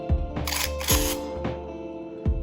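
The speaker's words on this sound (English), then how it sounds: "push the shutter button." A few sharp mechanical clicks of a Kodak Instamatic X-90 camera shutter, close up, with a brief whirring burst of automatic film advance between them.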